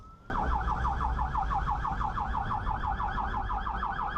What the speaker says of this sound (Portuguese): O barulho da sirene indica a emergência